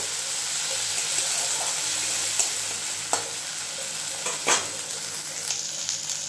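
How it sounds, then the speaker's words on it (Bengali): Hilsa fish frying lightly in mustard paste while being stirred in the pan: a steady close sizzle with occasional scraping clicks of the spoon throughout. "খুব ভালোভাবে নেড়ে চেড়ে এটাকে একটু হালকাভাবে ভেজে নেব।"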